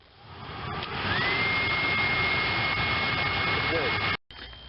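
A newly replaced blower motor in a Dodge Caravan spins up and runs with a steady whirring hum and a rising tonal whine, close by, then briefly cuts out near the end.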